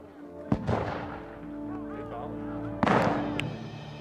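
Civil War reenactors fire musket volleys: two sharp, loud blasts about two seconds apart, each rolling out into a decaying boom, with voices under them.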